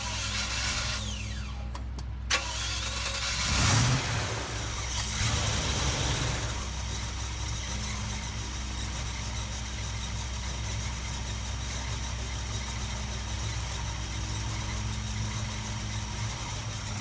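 A 1974 Chevrolet C10 V8 idles steadily on a rebuilt Edelbrock 1406 carburetor with the choke not connected. The engine makes a continuous low rumble outdoors after a few brief mechanical knocks near the start.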